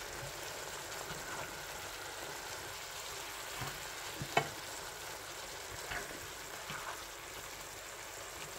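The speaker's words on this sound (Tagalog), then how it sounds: "kumukulo na ang ating ginisang gulay." Mushrooms and vegetables sizzle steadily in a hot pan, a soft continuous crackle with a faint clink of a utensil partway through.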